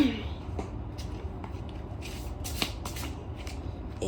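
Tarot cards are shuffled and drawn in a tarot reading, giving quick papery riffles and soft flicks in short bursts, close and quiet, with someone talking at moments.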